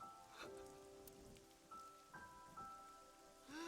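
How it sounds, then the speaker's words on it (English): Rain steadily falling into an abandoned, roofless building in the video game AI: The Somnium Files, a soft continuous patter. Faint tonal game music sits underneath, and no one talks. "It doesn't even have a roof. I just noticed that now. It's actually raining in."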